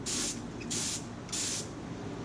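Three short bursts of Duracoat gun coating sprayed onto small parts, each a bright, close hiss lasting about a third of a second, separated by brief pauses.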